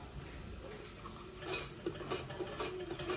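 Onions sliced on a mandoline set over a pot for French onion soup, heard as a repeated run of short rhythmic slicing clicks and thumps over a steady background hiss, close and fairly quiet.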